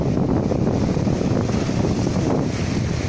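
Evening wind blowing over the open sea: a constant low roaring rush with steady buffeting, like wind striking the microphone, with no voices.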